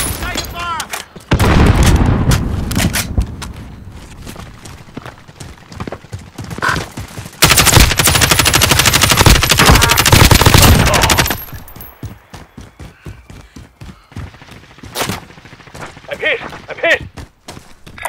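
Bursts of gunfire and sustained automatic fire in the video game Call of Duty: Modern Warfare, loud and dense in two long volleys, mixed with shouted voices and other battle sounds.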